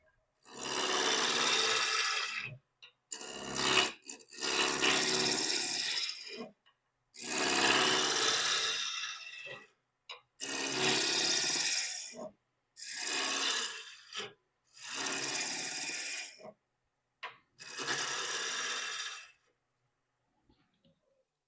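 A woodturning tool cuts and shapes a spinning workpiece toward a round profile, producing loud raspy scraping in repeated bursts of about two seconds each, separated by short silences, with no talking.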